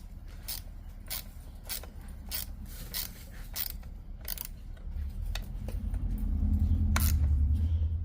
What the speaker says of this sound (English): So let me just tighten these down.